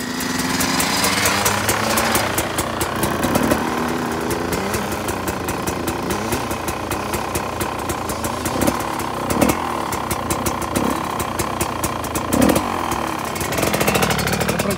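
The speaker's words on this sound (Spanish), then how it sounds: "Estoy practicando con la moto de enduro." An enduro motorcycle engine drones through riding practice in the Alps around Cesana Torinese, a steady buzzing note with repeated revs and throttle blips rising and falling, fairly close and continuous for the whole stretch.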